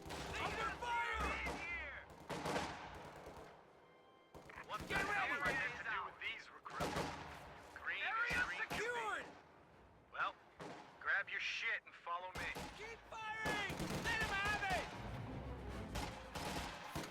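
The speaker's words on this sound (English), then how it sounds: "Sniper continuing to take shots at various squads." Rapid sniper and battlefield gunfire crackles and booms in a video game, with many overlapping shots and blasts in loud clusters separated by brief lulls.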